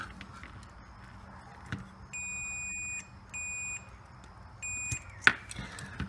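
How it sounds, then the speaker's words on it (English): Three steady electronic beeps from drone ESCs discharging capacitance on a DYS F4 Pro board sound in a row, each lasting under a second, with short gaps between them over faint background noise. "you should hear one beep, just like that. And that is a capacitance discharge from your ESCs"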